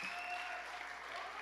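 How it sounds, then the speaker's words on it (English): Dense, steady applause from a crowd at a guide dog and service dog class graduation fills the whole moment, even clapping without pauses. "How about a big round of applause for this guy?"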